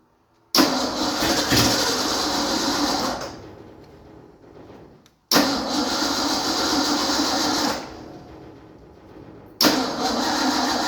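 A junkyard Ford Bronco engine cranks and catches twice, each attempt a loud, sustained roar for about three seconds that fades off, separated by brief silences, with a third start beginning near the end.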